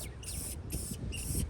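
Aerosol spray paint hisses onto a metal insert of a brick mailbox outdoors in open air with a light wind, coming in three steady bursts separated by short pauses.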